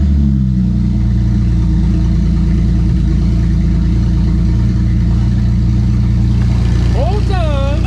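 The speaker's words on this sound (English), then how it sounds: "Here we go, first start." A 2007 BMW 335xi engine cranks and fires for its first start, then settles into a loud, steady rumble close by, with voices talking over it.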